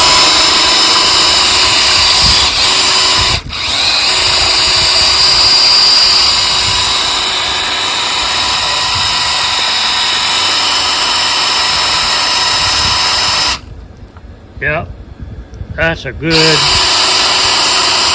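A 9.5 HP outboard's water pump spun by a cordless drill in a bucket of water whines steadily and loudly for about thirteen seconds, stops briefly with a voice in the gap, then revs up again.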